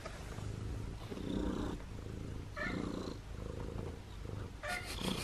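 A house cat purrs in a soft, continuous rumble close by, rising and falling gently with each breath, with no talking over it.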